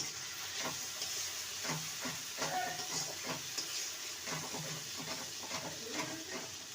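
Kashmiri chilli spice is stirred in a pan while making potato dum, with a soft hiss and a series of faint, rhythmic scrapes of the spoon.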